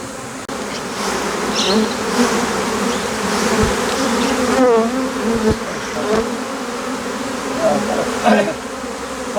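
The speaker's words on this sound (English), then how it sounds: "These bees have made themselves at home on the truck" A swarm of honey bees clustered on a truck buzzes continuously and close by, a dense, wavering drone with individual bees passing near.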